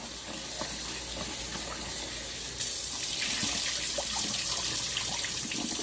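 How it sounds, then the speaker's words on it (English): Kitchen tap water runs steadily into a sink while potatoes are rinsed, a continuous close splashing hiss that grows a little louder partway through. "now the water's running clear"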